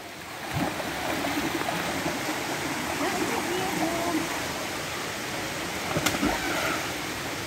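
Fresh mountain stream water flowing at a forest camp in Valencia, Dumaguete, Negros Oriental, a steady broadband rush close by, with a couple of brief bumps and splashes standing out.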